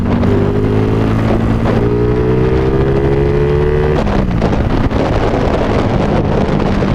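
A Honda Wave 125 motorcycle with a 30 mm throttle body, revved while riding, its engine note climbing in rising sweeps, dropping off and then climbing again, close and loud under heavy wind buffeting.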